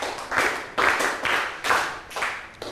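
A class of students claps five big, evenly spaced claps together, each a sharp burst followed by a brief decay, in a steady rhythm with no talk.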